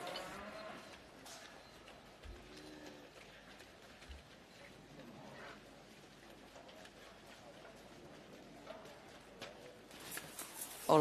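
Hereford steers at a campdraft competition low faintly in the distance, a few scattered moos under outdoor arena ambience and occasional talk.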